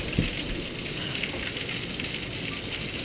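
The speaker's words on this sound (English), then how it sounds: "Getting lots of hail. Holy pea size." Steady pattering roar of pea-size hail falling on a street during a thunderstorm in Lake Elsinore, a continuous dense hiss without talk.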